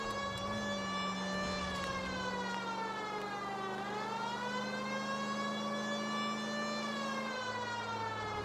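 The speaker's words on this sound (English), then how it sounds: "Oh, I hear a siren." A police car siren in the LA Noire video game wails continuously, rising and falling in slow sweeps, steady and prominent with a low engine hum beneath it.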